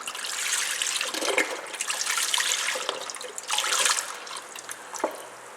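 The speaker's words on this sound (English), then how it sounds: "we're going to add in some water" Water pours into a cooking pot of chicken broth heating on a stove for chicken and noodles, a steady splashing, trickling stream with small bursts, close and moderately loud with no talking.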